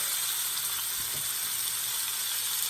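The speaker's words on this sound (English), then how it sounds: "stick this in there and it's gonna go sizzle" Steady, loud sizzling of a beef chuck roast searing in a hot pan, a constant crackling hiss with a faint soft knock partway through.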